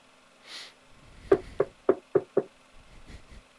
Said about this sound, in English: From downstairs, there is a knock at the door.